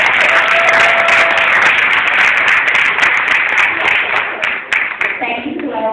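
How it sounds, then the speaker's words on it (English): Loud applause and clapping from an audience at a community event honoring an assemblywoman, dense and close, tapering off near the end as a voice begins speaking. "clapping."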